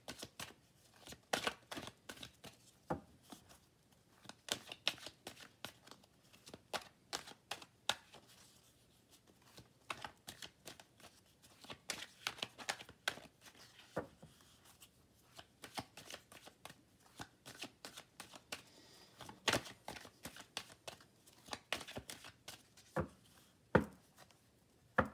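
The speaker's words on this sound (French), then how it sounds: "Allez, on va tirer 3 cartes ici." Oracle cards are shuffled and drawn by hand in a quiet room, a long run of soft, crisp riffling and slapping bursts at irregular intervals.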